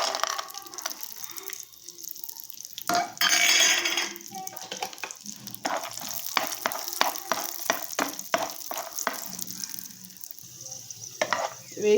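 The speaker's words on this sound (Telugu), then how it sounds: "ప్యాన్ పెట్టేసుకొని 2 స్పూన్స్ నెయ్యి వేసేసి ఇందులో డ్రై ఫ్రూట్స్ వేయించేసుకోవాలి." Dry fruits fry in ghee in a pan with a steady close sizzle, while a spoon stirs and scrapes with rapid metallic clinks and taps. A burst of louder hissing comes early on.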